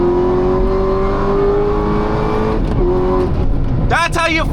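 A Corvette ZR1 engine holds a loud, steady rev, then drops sharply at a gear shift after bouncing off the redline, and climbs again in a fresh rising sweep. Someone talks over the engine noise.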